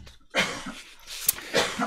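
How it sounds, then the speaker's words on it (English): A person coughs a few times in the background while crafting work goes on, the bursts moderately loud and spaced out across the moment. "coughing in the background, I'm not sure why"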